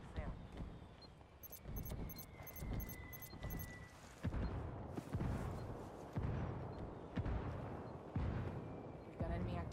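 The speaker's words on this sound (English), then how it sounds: "Under heavy fire!" Heavy gunfire in Ghost Recon: repeated booming shots and bursts crack out across the scene, some close and loud, with voices talking over the combat.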